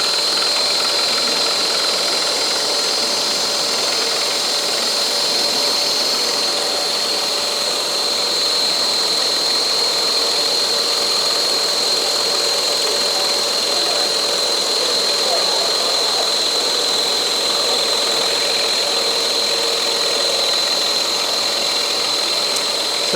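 A scroll saw cuts curves into a wooden workpiece, giving a loud, continuous whine and buzz with a steady high tone throughout as the piece is turned through the blade.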